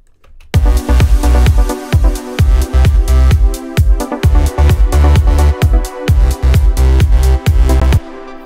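An electronic song plays loudly with a punchy, steady beat of bass-heavy hits and layered synth tones, running uninterrupted before stopping just before the end.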